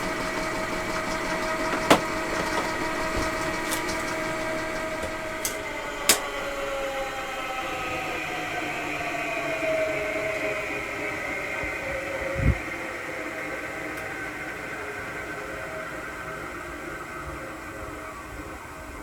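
An electric honey extractor spins honey frames with a steady mechanical whir and hum that holds constant throughout, broken by a few sharp clicks and knocks.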